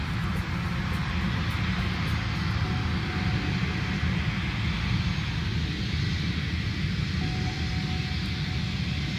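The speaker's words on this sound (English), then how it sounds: "That's a big plane going on." A large airplane flies overhead with a continuous low engine rumble and broad roar, steady and fairly loud, with no talking.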